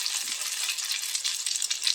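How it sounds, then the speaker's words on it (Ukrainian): Steady, crackling sizzle of potato pancakes frying in hot oil in a pan over medium heat, continuous and close, with no voices. "Смажимо на середньому вогні"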